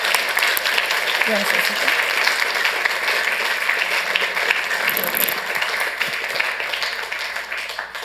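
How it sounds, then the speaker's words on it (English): At a Santa Ana city council meeting, an audience claps loudly for recognized enforcement officers, sustained applause that tapers slightly at the end while a voice briefly speaks over it. "Let's give them a round of applause."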